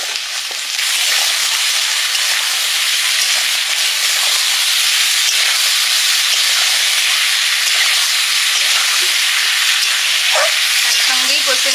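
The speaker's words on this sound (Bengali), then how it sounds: "একসঙ্গেই কষে নিচ্ছি।" Taro and prawns being sautéed together in a pan, a loud, dense, steady sizzle and hiss running throughout after a brief quieter start, with faint stirring scrapes.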